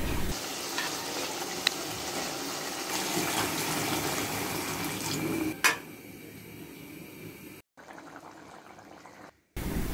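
Vegetables and fish in curry paste sizzle and scrape under a stirring spoon in a pan, a steady close frying hiss with clacks, cutting out briefly near the end.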